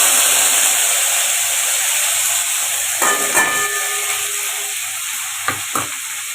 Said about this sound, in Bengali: এবারে এগুলোকে ভালো করে ভেজে নেবো এবারে এগুলোকে লাল লাল করে ভেজে নেব